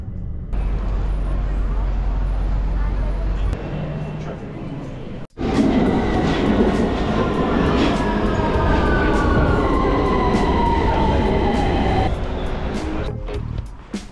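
Passenger train in motion, heard from on board during a trip in Croydon, a steady loud rumble with rising and falling whine tones through most of the stretch and a brief drop near the middle.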